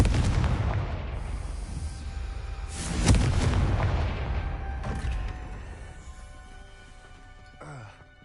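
A Confringo blasting spell goes off in Hogwarts Legacy, one sharp booming explosion with a rumbling tail that slowly fades, followed by a softer later burst.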